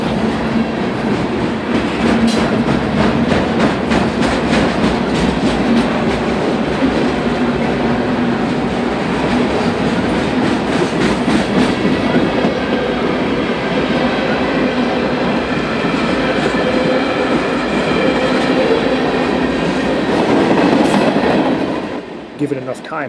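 A heavy freight train hauled by EMD diesel locomotives making a combined 7,000 horsepower rolls past close and loud, with a steady engine drone and rail clatter that hold throughout before cutting off at the end.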